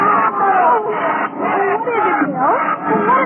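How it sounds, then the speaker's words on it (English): A fiesta crowd cheers for a bull in an old radio drama, a dense, muffled wall of yelling voices swelling and dipping in waves, loud and close throughout. "They're cheering for the bull."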